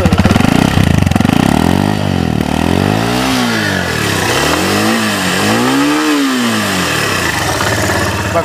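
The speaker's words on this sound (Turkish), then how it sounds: "Bak motor çok rahat ve şey çalışıyor." A CF Moto 150 NK motorcycle engine runs loud and close, with repeated rising and falling revs swelling over a steady idle and no talking.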